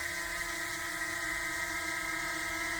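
DJI Mini 2 drone fitted with low-noise LED propellers hovering nearby, giving a steady high whine with layered motor tones at constant level, no voices.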